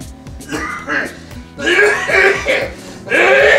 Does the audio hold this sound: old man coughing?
yes